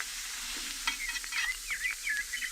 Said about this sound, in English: How long do I have to listen to them sizzling there on the griddle?